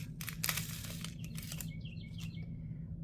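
Small birds chirp in a backyard in short, repeated bright calls, fairly faint over a steady low background rumble and some rustling.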